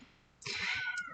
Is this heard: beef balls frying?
no